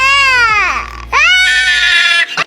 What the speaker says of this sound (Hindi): फिर सफेद बच्चा खुद को पानी में देखता है और जोर जोर से रोता है